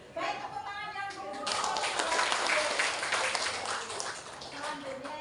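An audience at a teachers' training event in Pekalongan bursts into dense, steady applause that lasts several seconds, with a voice speaking over the start.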